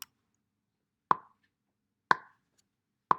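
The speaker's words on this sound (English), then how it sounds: "Let's get the click going." A slow metronome click track ticks alone, three sharp, evenly spaced clicks about one second apart against silence.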